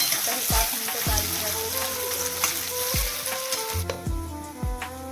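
Chopped potato frying in a pan for sabudana khichdi, a steady broadband sizzle with several low thuds from items dropping in and a spoon stirring, no voices.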